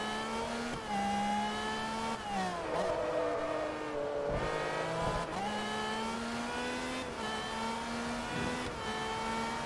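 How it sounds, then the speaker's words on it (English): V12 race car engine in the Forza Motorsport 3 racing game, loud and continuous, revving up and down through gear changes with brief dips as it shifts, running without any voices over it. "That's one hell of a V12 noise."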